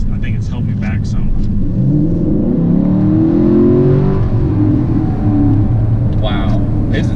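A 2018 Camaro ZL1 1LE on a track lap roars at close range, its engine rising steadily in pitch as it accelerates hard, then easing off near the end amid wind and road rumble.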